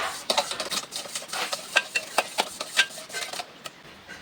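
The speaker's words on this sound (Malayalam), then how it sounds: "പിന്നെ നമുക്ക് ഒന്നുകൂടി നന്നായി ഇളക്കി കൊടുക്കാം." Chillies being stirred in a frying pan make a gentle sizzle under a series of clinks and scrapes from the spoon against the pan. The clinks come at an uneven rhythm, close and fairly distinct, and no one speaks.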